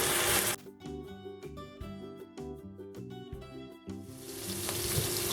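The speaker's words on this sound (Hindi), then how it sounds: "प्याज को बस 1 से 2 मिनट फ्राई करना है, लेकिन ब्राउन नहीं करेंगे हम इसको" Onions with asafoetida frying in hot oil give a hissing sizzle, clear at the start, then mostly covered by melodic music, and swelling again toward the end.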